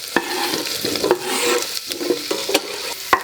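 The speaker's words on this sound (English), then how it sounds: "And I'm adding the onions." Chopped onions sizzling in a hot pan for creamed spinach, a loud close hiss with sharp scrapes and taps of a utensil stirring every half second or so.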